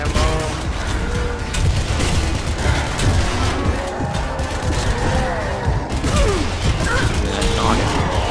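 Near-continuous gunfire and mechanical clatter in the video game ZAT, dense and loud, with sharp shots layered over whooshing creaks and ratcheting noises for the whole stretch.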